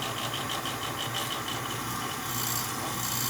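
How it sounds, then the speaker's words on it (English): Old gas furnace fan motor running with a steady rattly hum and broadband rushing air, constant and fairly close, with no talk. "It could be that that motor up top seems like it's a little rattly."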